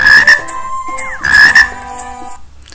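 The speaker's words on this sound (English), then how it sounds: "Its sound is called croak. Sound of frog is croak." A frog croaking up close and loud, a few raspy, tonal calls in quick succession.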